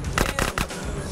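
Rapid bursts of gunfire during a drive-by in the video game Grand Theft Auto: San Andreas, three or four close, sharp cracks fired in quick succession over a dense, noisy mix of game sound.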